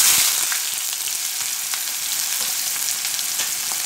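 Cumin seeds and chopped onion fry in hot oil, a dense close sizzle with frequent small pops and crackles, loudest at the start and then steady.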